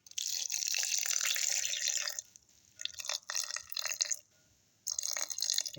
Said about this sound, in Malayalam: ഇപ്പം അരയ്ക്കാൻ ആവശ്യമുള്ള വെള്ളം ഒഴിച്ചു കൊടുക്കാം